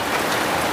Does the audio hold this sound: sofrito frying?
no